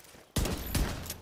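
Shotgun blasts in the video game The Division 2, an abrupt loud report followed by a second heavy boom and echoing rumble, up close with no talking.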